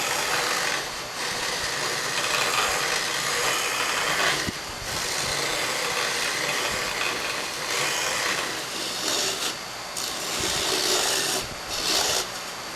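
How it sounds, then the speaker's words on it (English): A sanding ball works inside a dried drinking gourd, giving a steady close-up rasping scrub against the gourd wall, broken by a few short pauses and shifts in pressure. "just the difference of how the sander ball is hitting everything"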